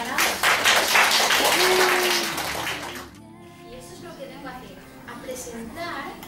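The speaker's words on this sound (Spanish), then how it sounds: "Voleu que li donem un aplaudiment a Rosana?" Library audience applauds author Rosana at a book presentation, a loud broadband wash of clapping for about three seconds that then drops off abruptly, leaving quieter room sound and voices.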